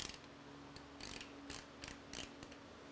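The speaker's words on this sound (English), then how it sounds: "Next thing we're gonna do is actually loosen the clamps completely and pull the forks out both sides." A ratchet wrench loosens the fork clamps on a Honda Shadow motorcycle, giving several short, quiet bursts of close metallic clicking separated by brief pauses.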